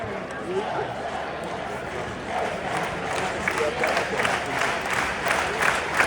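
A crowd in a football video game cheers and applauds after a goal, a dense, sustained roar of clapping and shouting that swells toward the end, with a voice talking over it.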